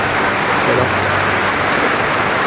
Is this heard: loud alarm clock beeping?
no